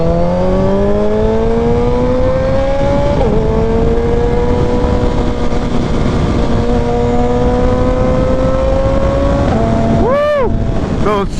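A Suzuki Hayabusa motorcycle accelerates hard, its engine note climbing steadily with brief dips at two gear shifts, loud and close over heavy wind rush.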